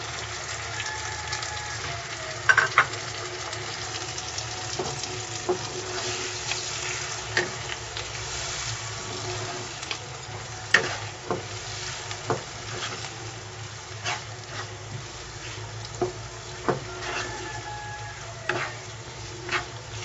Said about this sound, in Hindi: तीन मिनट तक हम इसे पकाएंगे और चम्मच चलाते रहेंगे टमाटर गल जाने तक